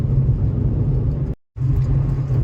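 Steady low engine and road rumble from a car driving on the road early in the morning, heard from inside, continuous apart from a brief dropout midway.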